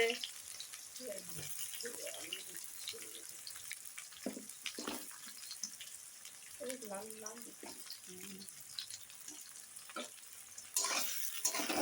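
Onions and potatoes fry in garlic-tempered oil for spicy chicken curry, a steady sizzle running throughout with stirring clatter and someone talking over it; the frying swells louder near the end.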